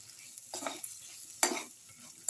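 Spices being stirred into a garlic, okra, tomato and rice casserole mixture, with soft sizzling underneath and a few distinct spoon scrapes and knocks against the pan, close and alone.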